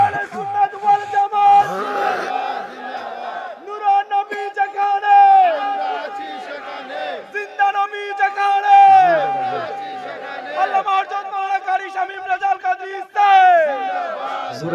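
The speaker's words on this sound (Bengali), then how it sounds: "জোরে একটা তাকবীর।" A crowd at a Bengali Islamic religious sermon shouts the takbir, Allahu Akbar, in loud repeated waves of many voices, rising and falling over about fifteen seconds with sustained chanting.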